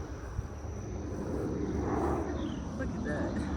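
A fixed-wing airplane flies overhead above a garden, its broad engine drone swelling to a peak midway and then easing, steady and moderately loud with no talk.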